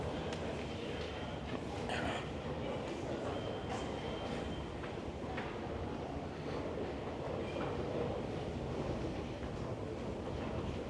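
A SkyTrain rumbles at Yaletown-Roundhouse Station in Vancouver, a loud, steady broadband roar with faint clattering and wind noise that continues throughout.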